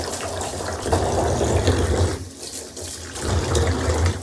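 Water sloshing and splashing as the dusty filter from a bagless vacuum cleaner is rinsed again in a basin, in two steady washing bursts with a brief quieter pause between, close and fairly loud, with no talking.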